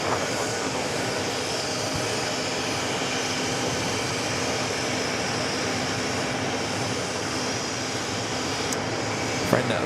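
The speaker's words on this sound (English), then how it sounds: "Coming in with our A330-200, coming in from Rome" Airbus A330-200 arriving at JFK from Rome, its engine roar a steady, distant broadband wash lasting throughout, with faint background noise and no clear rise or fall.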